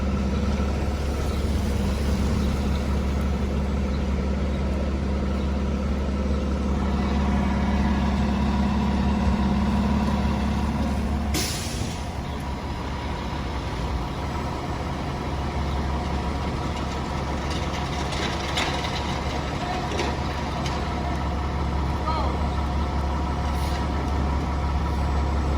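FDNY fire trucks Engine 84 and Ladder 34 idle steadily on a blocked city street, a low continuous diesel rumble with a brief air-brake hiss partway through and no voices.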